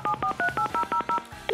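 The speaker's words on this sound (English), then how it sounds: "let's dial the first number" Rapid DTMF telephone keypad tones dial a number on a live television phone-in game show, nine or ten short, evenly spaced beeps in a quick rhythm, clear and close, followed by a faint click.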